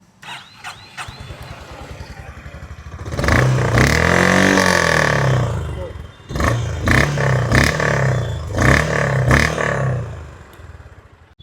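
A Honda CB350c motorcycle with a 349cc engine self-starts with a cranking clatter, then settles into a deep thumping idle and is blipped through several throttle revs, loud and close.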